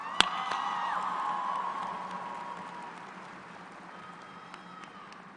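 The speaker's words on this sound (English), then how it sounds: "let's celebrate your hard work with one more round of applause" A graduation audience at a college preparatory school breaks into loud, sustained applause and cheering that gradually fades over several seconds, with a sharp clap or bang near the start.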